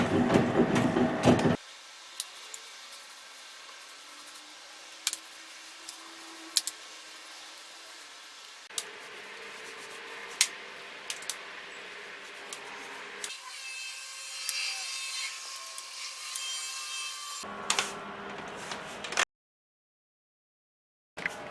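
Sharp wooden edges of a handmade gnome house are smoothed down with close, rasping strokes that come in bursts separated by pauses.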